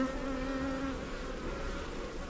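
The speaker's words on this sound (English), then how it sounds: "There's quite a lot of bees" Bees buzz in a steady close drone during an open hive inspection, a sustained hum with shifting pitch and no talking.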